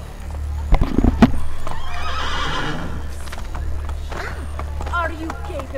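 Horse whinnying and hoofbeats clip-clopping at a run in Assassin's Creed Brotherhood, a sharp neigh near the start followed by steady galloping under game music and voices talking.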